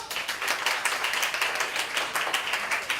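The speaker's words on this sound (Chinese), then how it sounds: "掌声欢迎赵副总" Audience at an indoor corporate event clapping in steady applause, a dense even patter of many hands throughout the short stretch, no voices over it.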